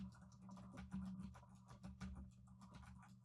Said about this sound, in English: this is what typing on a mechanical keyboard with tactile switches sounds like